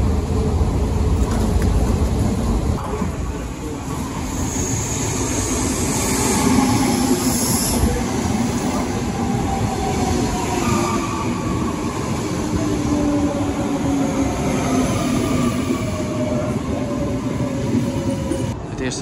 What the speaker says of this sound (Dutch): Daarvoor pakken we zo meteen als eerst de Intercity naar het zuiden.